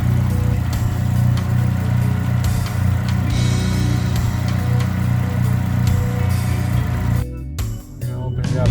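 A Chevrolet Sonic 1.4L engine fitted with oversized Siemens Deka 650cc injectors idles with a steady low rumble up close, running continuously before the sound drops and turns uneven near the end.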